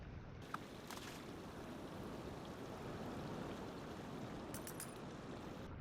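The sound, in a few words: flowing water pushing a block in Minecraft, a video game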